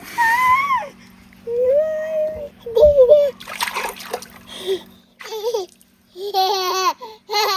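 A young child splashes and plays in stream water, with bursts of splashing between babbling, squeals and laughter, all close by.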